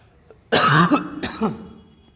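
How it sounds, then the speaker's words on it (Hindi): Two harsh coughs from cold weather erupt up close, the first longer and heavier, followed by a fading raspy exhale. "ठंड बहुत है, खांसी आ रही है।"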